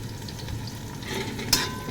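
Garlic, onion and chili frying in a pan with cabbage cooking nearby, a steady low sizzle with soft stirring scrapes and one sharp clink near the end, no voices.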